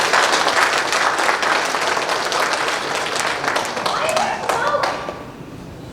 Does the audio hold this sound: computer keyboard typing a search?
no